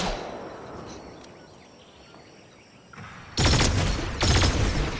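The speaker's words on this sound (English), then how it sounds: "he's firing a rocket at you" Rocket launcher blast in a Fortnite trios Battle Royale match: after a quiet ambient stretch, a loud broadband whoosh-burst erupts, followed by a second sustained roaring surge, dense and close with no speech over it.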